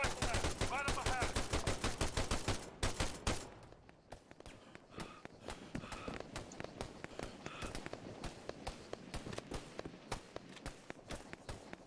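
Dense Arma 3 gunfire: a heavy barrage of rapid shots up front, then a steadier stream of quieter, more distant rifle fire, with no voices over it.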